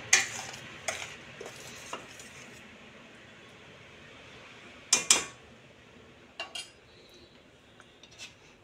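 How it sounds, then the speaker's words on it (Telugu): Murrel fish curry being stirred in a pan, with scattered scraping and clinking of a utensil against metal over a faint background hum, loudest in a couple of sharp bursts. "దీన్ని బాగా కలుపుకొని సిమ్లో పెట్టుకొని ఆయిల్ కొంచెం పైకి తేలే వరకు మిక్స్ చేసి పెట్టుకుందాం."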